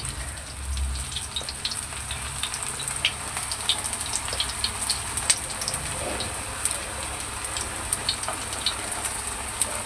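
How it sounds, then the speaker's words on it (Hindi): Bottle gourd chapli kababs fry gently in oil over low heat, a steady close sizzle with small crackles and pops running evenly throughout. "इसको हम बिल्कुल हल्की आंच पे फ्राई कर रहे हैं"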